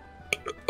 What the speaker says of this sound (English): You need to stop burping.